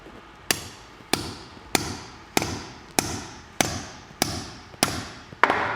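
Anchor bolt for a garage lift driven into a 6-inch concrete slab, eight sharp, evenly spaced hammer strikes ringing out loud and close, about one every 0.6 seconds.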